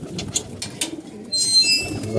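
Pigeons give soft, low cooing close by, mixed with light rustling and a brief higher chirp near the end.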